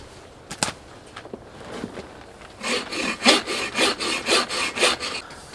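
A hand saw cuts through material on a snow sled at an urban winter shelter in a mild snowstorm, with a few scattered scrapes followed by a run of about eight close, rhythmic rasping strokes.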